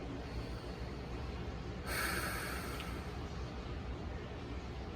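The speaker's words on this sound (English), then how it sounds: "you want to take a deep breath in" One deep breath drawn in through the nose, a brief audible inhale rising out of quiet background hiss and fading quickly.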